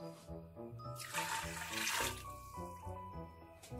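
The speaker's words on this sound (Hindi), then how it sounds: "तो इसमें हम पानी ऐड करेंगे।" Water pours into a cooking pot of mutton yakhni pulao, a soft splashing rush that builds for about a second and then fades, with background music playing underneath.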